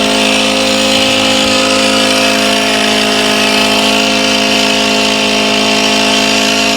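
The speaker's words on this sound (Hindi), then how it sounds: "इसके इंजन की जो आवाज है ना, जहां तक मैं सुन पा रहा हूँ, वो भी मुझे कम लग रही है" Petrol-powered high-pressure sprayer engine running at a steady, loud, continuous buzzing whine with a constant droning tone and no pauses.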